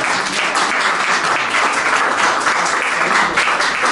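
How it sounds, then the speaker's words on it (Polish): A live stage-show audience applauds steadily at a Polish event, a dense, even wash of many hands clapping throughout with no pauses. "brawa dla Dawida za to, że tak kocha kobietę"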